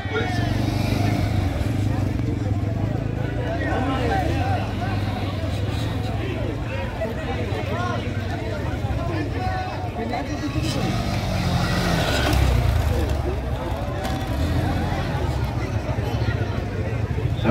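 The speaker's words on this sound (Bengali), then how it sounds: "এই হচ্ছে এখানে ডার্ট বাইক রেস, পরপর গাড়ি আসতেই থাকবে" Dirt bike race at a large riding event, with motorcycle engines droning steadily as bikes pass one after another, mixed with crowd babble and voices throughout.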